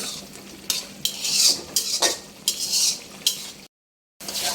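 Pangas fish curry stirred in a pan: repeated metal spoon scrapes and clatters against the pan over a light sizzle, close by, with a brief silent gap near the end and no talking.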